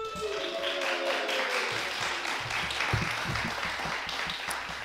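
An audience at a school piano recital claps in steady, continuous applause, fairly quiet and even throughout, with no talking.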